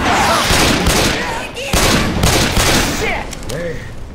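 Dense, loud gunfire from Left 4 Dead 2 on The Parish campaign, with rapid overlapping shots and bursts throughout, mixed with voices and game sounds during a chaotic fight.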